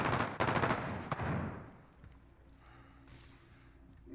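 Rapid automatic RAM-7 rifle fire in the shooter game Modern Warfare, a loud dense burst of shots in the first second and a half that then fades into quieter ambient game noise.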